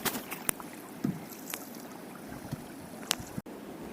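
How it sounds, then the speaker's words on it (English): A canoe paddle dips and strokes through a quiet lake in sparse, soft splashes spaced about half a second to a second apart, with faint wind and no voices. "So out here there's nobody and you're just paddling."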